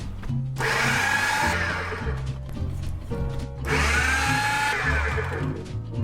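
A blender whirs through vegan deviled egg filling made with black salt, turmeric and black pepper, running in two loud bursts of several seconds each with a low rumble between them.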